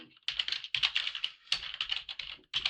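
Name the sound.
typing a command on a computer keyboard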